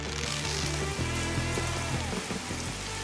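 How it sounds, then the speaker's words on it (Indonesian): Cartoon rain wrung from a cloud to stop a forest fire patters steadily and close, a dense wet spatter filling the short stretch without voices. "Annie harus menangkap awan terdekat untuk bisa memeras hujan."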